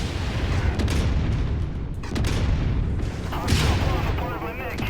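Missile explosions in the MechWarrior video game, heavy booming blasts layered over constant rumbling battle noise, loud and dense, with talking mixed in.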